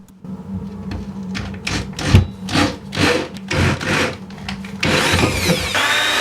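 Hole saw cutting holes into a wooden bench, a harsh rasping whine that comes in repeated bursts, each loud pass rising and fading, ending in a louder, steadier grinding stretch.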